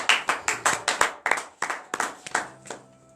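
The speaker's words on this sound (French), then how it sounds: "Donnez de vive acclamation à notre Seigneur Jésus." Congregation at a morning prayer service in Benin claps in acclamation of Jesus: a dozen or so sharp, separate claps in a loose rhythm, close and fairly faint, thinning out and fading toward the end.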